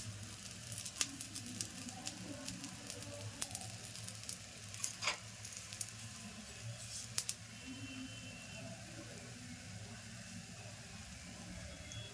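Bhagar and sabudana dosa sizzles quietly and steadily in oil on a pan, a soft continuous frying crackle with a few sharper pops and spits scattered throughout.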